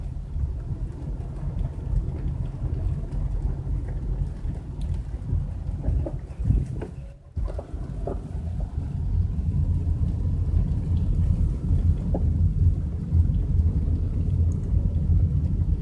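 Steady rain pours over a dead shopping mall in the Phoenix, Arizona area, a dense continuous wash with a low rumble like distant thunder and a brief drop near the middle, no voices.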